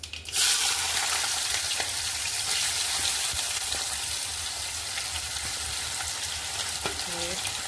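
Diced potatoes hitting hot oil in a pan with asafoetida for Gujarati giloda-potato curry, sizzling and frying steadily close up, with a few clinks of a spoon and a brief stir near the end.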